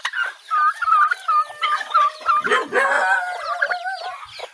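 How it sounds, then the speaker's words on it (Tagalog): Native chickens and other fowl on a backyard farm, heard close and loud with a burst of clucking, gobbling and crowing calls that overlap over a few seconds with no talking. "Ito naman yung mga alaga nating manok."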